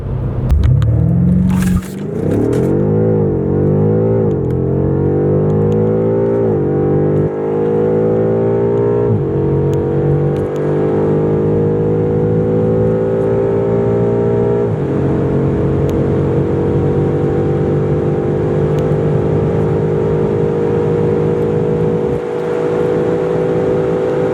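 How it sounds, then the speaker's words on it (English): A 2018 BMW M5 First Edition using launch control on the German autobahn, engine roaring hard through successive upshifts as it climbs toward 290 km/h, loud and continuous from inside the car. "I have taped on the German autobahn a launch control from 0 to 290 plus on the speedometers"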